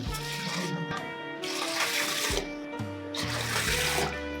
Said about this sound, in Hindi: अब 3 कटोरी हम डालेंगे पानी